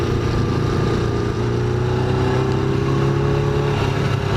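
A motorcycle engine revs steadily close by. Its droning pitch climbs gradually as it accelerates, it stays loud the whole time, and no voices can be heard.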